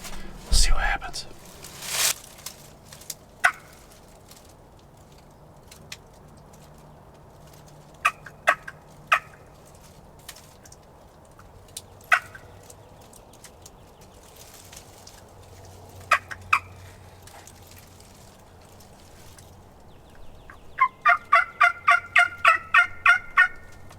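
Turkey calls ring out during a spring turkey hunt outdoors: scattered sharp clicks and yelps, then a fast, evenly spaced run of loud gobbling calls near the end against a quiet background.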